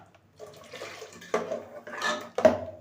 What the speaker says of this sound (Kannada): ಇದಕ್ಕೆ ನಮಗೆ ಎಷ್ಟು ಗಟ್ಟಿ ಬೇಕು ಸಾಂಬಾರು ಅಷ್ಟೊಂದು ಮಾತ್ರ ನೀರು ಹಾಕ್ಕೊಳ್ಳಿ.